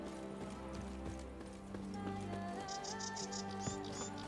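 Roach, the horse in The Witcher 3, walks with soft rhythmic hoof clip-clops under a sustained musical drone and ambient game sound, moderately quiet and steady.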